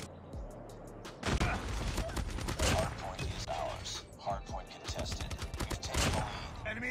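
Rapid bursts of DR-H rifle fire in the mobile shooter Call of Duty Mobile, a loud run of crackling shots and short volleys through a busy multiplayer match with other game effects around them.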